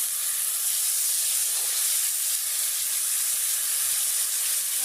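Pangas fish pieces dropped into hot oil give a loud, dense, continuous sizzle and hiss that stays even and close throughout, with no voices.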